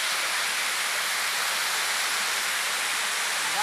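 A waterfall near a freshwater stream: an unbroken, loud broadband rush of falling water with no other sounds over it.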